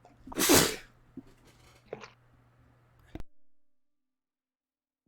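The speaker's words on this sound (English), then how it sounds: "I'm over here just sneezing, by the way." One loud, close sneeze bursts out near the start, followed by a few quiet sniffs and small noises before everything goes silent.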